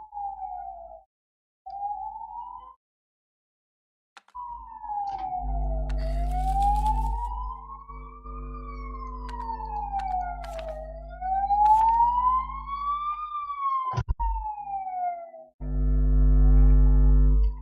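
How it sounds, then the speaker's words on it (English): An electronic police siren in the game Lords and Villeins wails up and down in long sweeping cycles, loud and close, with a steady low engine rumble beneath and a few brief breaks. "Oh no, police siren."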